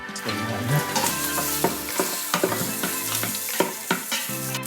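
Pork fat renders in a heating Instant Pot with a dense, close sizzle and crackle that runs throughout. Occasional stirring knocks and scrapes sound against the pot, with no talk.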